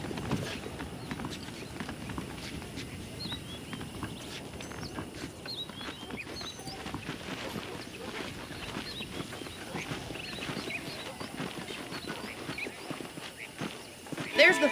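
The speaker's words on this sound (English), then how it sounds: "The horses are saddled up over here." Horse hooves clip-clop at a walking pace in the video game Red Dead Redemption, a steady patter of hoofbeats on dirt with faint background ambience and speech throughout.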